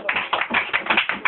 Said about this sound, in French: ici on acclame la sœur.